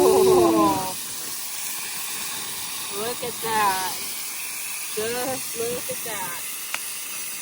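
Steak with onions and bell pepper, marinated in lemon juice and soy sauce, sizzles over a campfire outdoors, a steady hissing spit that runs throughout while a voice speaks in short bursts over it.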